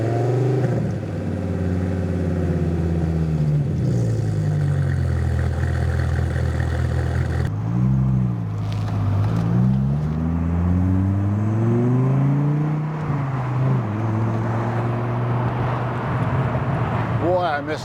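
A 1997 Dodge Viper engine rumbles loudly, revving up and down through gear changes while driving, with a deep idling growl between pulls.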